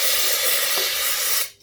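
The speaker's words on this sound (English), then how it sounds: "I'm just going to spray some down the tube" A steady aerosol spray hisses continuously down a motorcycle tube for over a second, then cuts off abruptly.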